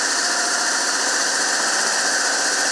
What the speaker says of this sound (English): Look at that BMW shake. I'm idled up just a smidge.